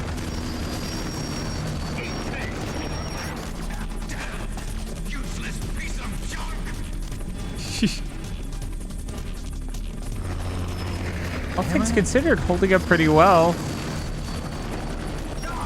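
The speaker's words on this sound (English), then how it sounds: "most helicopters can't take that many Stinger missiles" A helicopter hit by Stinger missiles in Metal Gear Solid, with rumbling mechanical noise and explosive booms under a dense game soundtrack, and people talking over it throughout.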